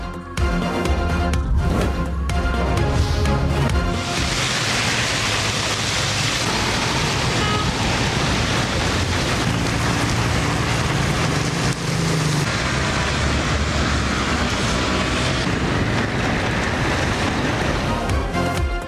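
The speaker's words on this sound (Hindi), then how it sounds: "रावलपिंडी इस्लामाबाद में तूफानी बारिश।" Heavy storm rain pours in Rawalpindi, a dense, loud, continuous roar of downpour with wind gusts, steady throughout with no voices.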